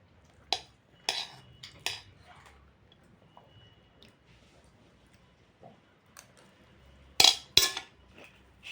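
Metal utensils clink against a kadhai during a meal, with sparse sharp clinks and scrapes scattered among quiet pauses and a brighter pair of clinks near the end.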